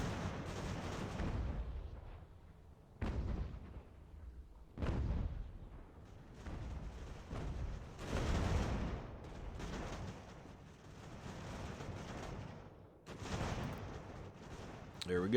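Musket volleys and artillery booms from the American Revolution strategy game Ultimate General: American Revolution come as repeated distant rumbling bursts and crackling fusillades, rising and fading in waves.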